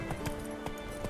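A horse's hooves clip-clop in The Witcher 3, a steady trotting rhythm of four or five close, moderately loud hoofbeats over a faint background hum.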